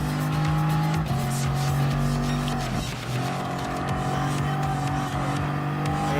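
Race cars in Gran Turismo Sport, including a McLaren GT Group 1 car and LMP1 prototypes, roar continuously with engines revving and tires squealing briefly mid-pass, loud and close.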